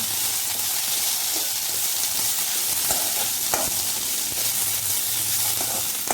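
Leaves for a mixed chutney, including pirandai and ridge gourd, sauté in a hot pan with a steady broadband sizzle and occasional scraping stirs, loud and continuous throughout without any talk.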